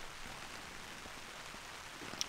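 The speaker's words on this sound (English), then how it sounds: "It's where the rain is coming in." Steady rain patters on a camping tent and tarp, an MSR Hubba Hubba NX 2, as a low continuous hiss with faint scattered drops and one small tap near the end.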